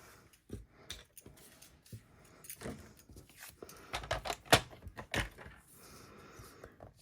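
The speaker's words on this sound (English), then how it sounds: "So just bring my paper trimmer back." A paper trimmer's cutting arm slides back along its track on a craft table, making scattered close clicks, knocks and one sharp snap amid quiet handling noise.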